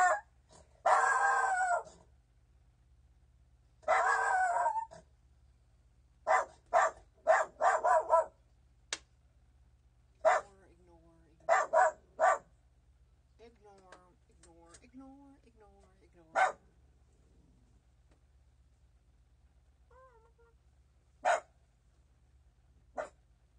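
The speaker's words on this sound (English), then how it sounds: "What is he barking at?" A dog barks in short, sharp bursts, sometimes doubled, separated by quiet gaps, with a little indistinct talking in between.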